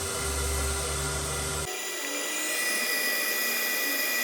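Vacuum cleaner running with a loud, steady high-pitched whine and airy roar; partway through the low rumble drops away abruptly while the shrill motor tone carries on evenly.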